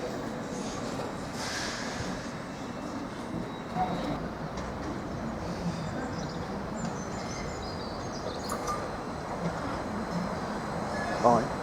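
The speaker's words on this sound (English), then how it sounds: "755329 is arriving into platform 3 from Cambridge." A Class 755 train pulls into a platform at Ipswich station, a steady rumbling roll with faint squeals and clanks in the busy station air, while a voice talks over it.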